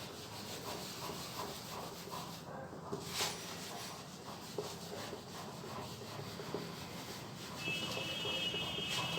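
Soft rubbing strokes of a duster wiping writing off a classroom board, a repeated scratchy swishing at close range with no talk.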